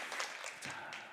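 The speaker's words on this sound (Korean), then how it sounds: "우리 감사의 박수 크게 드립시다" Members of a Korean church congregation applaud in thanks during a worship service, a brief patch of faint, distant clapping from a crowd.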